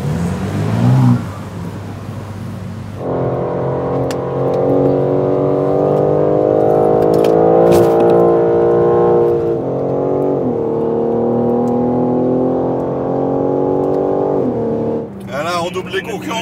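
A new BMW M4 starts off and accelerates, its engine tone rising in a strong, steady drone across several seconds while people talk inside the car.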